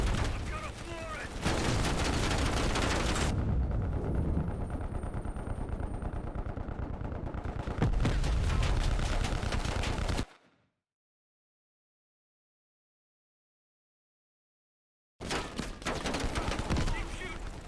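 Call of Duty: Black Ops Cold War gunfire comes as dense, loud automatic bursts with mechanical clatter. The shooting stops in a few seconds of complete silence, then returns at the end.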